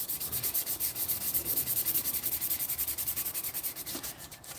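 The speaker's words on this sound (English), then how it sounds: "So this one I'm just doing a light scuff because I'm gonna put etching primer." A car rim being hand-scuffed before etching primer, producing a steady, rapid back-and-forth sanding rasp, close and continuous, tapering off at the end.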